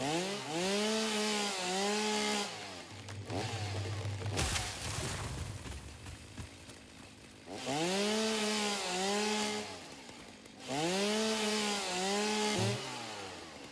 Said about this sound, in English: Area mode on the chainsaw is very good